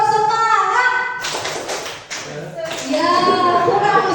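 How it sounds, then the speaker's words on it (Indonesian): A group at a school positive-culture presentation performs the rhythmic tepuk semangat spirit clap, with bursts of hand claps alternating with chanted voices, heard close and loud. "kita bersama-sama untuk bertepuk semangat"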